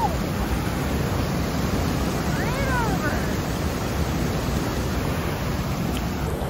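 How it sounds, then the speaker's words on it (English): A waterfall fed by snowmelt pours into a pool with a steady, loud, broad roar close by; a faint voice briefly rises above it. "Walking right up to the falls."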